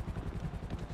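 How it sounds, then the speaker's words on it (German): A helicopter in the video game GTA V flies overhead, its rotor thumping steadily in a quick, fairly faint chop for about a second, alone without talk. "Hier fliegt ein Heli rum."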